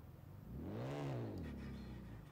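In the racing game Forza Horizon 4, a 2011 BMW Z4 sDrive35is engine revs once, rising and falling in a single smooth sweep at moderate volume, with no voices.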